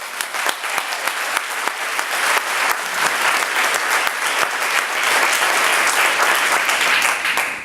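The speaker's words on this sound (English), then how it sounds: "How about a round of applause?" Audience at a school committee meeting applauding, a loud, dense burst of many hands clapping that holds steady for several seconds before tapering off at the very end.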